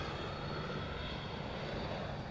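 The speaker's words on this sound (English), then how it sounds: "We'll blame that plane that just went overhead." An airplane passing overhead on a golf course, a steady broadband engine roar that stays loud and even the whole time.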